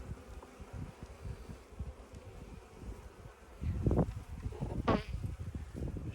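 Honeybees buzz around a weak hive frame that holds few bees, a soft, near drone with faint rustling and a louder bee passing close midway.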